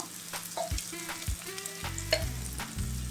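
Masala sizzles and crackles in a hot pan with salt and turmeric added, a steady close frying hiss broken by a few scraping stirs, with no voices.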